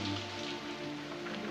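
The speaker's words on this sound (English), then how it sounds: "It's just the rain." Rain patters steadily on a surface, a soft continuous wash under a low hum throughout the brief stretch.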